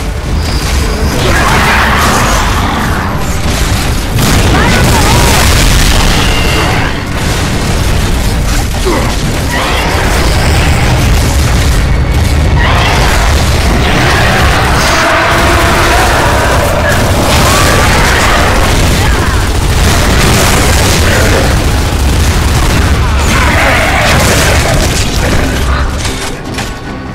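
Gears of War 3 combat with a grenade blast on a bridge: loud, dense booms and heavy mechanical clatter run continuously without a break, with rumbling impacts layered through the whole stretch.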